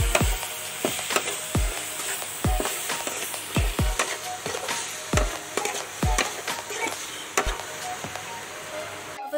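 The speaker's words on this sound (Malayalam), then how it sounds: "ഇത് നമുക്ക് നല്ല വണ്ണം ഇളക്കി വഴറ്റി എടുക്കാം." Beef sautéing in a pan with turmeric and black pepper, a close sizzle punctuated by a series of sharp irregular knocks and scrapes from stirring with a spoon.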